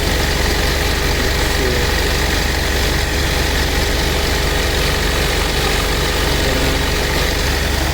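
A 1981 Buick Electra Park Avenue engine idling after a cold start, a loud, steady low rumble with constant vibration and no change in pace, no talking.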